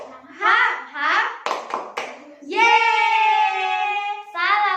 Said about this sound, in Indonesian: kita tepuk semangat dulu ya Umi.